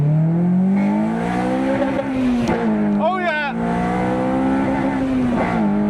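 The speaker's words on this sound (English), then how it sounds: "So you're just going to hear VTEC kicking now." A Honda Civic EP3 engine revs hard and climbs in pitch as VTEC engages, loud and close, with a short dip mid-run before rising again and a brief excited shout over it.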